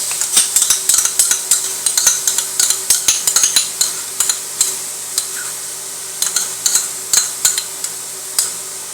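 Noodles sautéing in a pan with oyster sauce, a spatula scraping and tapping the pan in quick, irregular strokes over a faint sizzle, close and fairly loud, with no talking.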